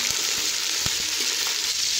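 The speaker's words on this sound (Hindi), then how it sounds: "अब मैं इसके अंदर चिकन ऐड कर दूँगी और इसे अच्छे से फ्राई कर" Steady, close sizzling of chicken frying in a hot pan for chicken yakhni pulao, with a few soft clunks and scrapes from stirring.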